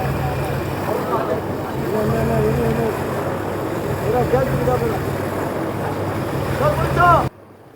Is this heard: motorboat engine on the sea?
yes